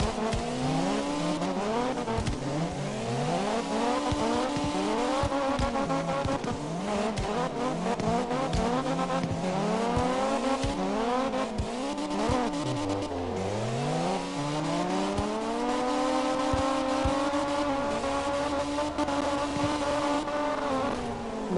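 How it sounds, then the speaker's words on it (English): In the CarX Drift Racing video game, a car's engine revs up and down continuously while it drifts, with rising and falling whines and tire squeal throughout, loud and unbroken. "sometimes when you do drifts like that, they get really crazy like that"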